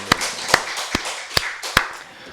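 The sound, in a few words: church congregation clapping to glorify God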